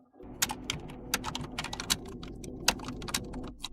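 Fingers typing on a computer keyboard, a quick irregular run of crisp close key clicks over a quiet background, with no one speaking.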